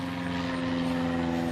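A plane drones steadily overhead during an outdoor walk, a continuous low engine hum with a rumbling hiss, loud and unbroken throughout.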